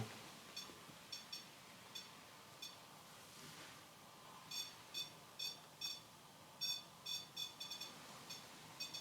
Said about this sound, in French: suis quasiment sûr d'avoir entendu le pod là-bas biper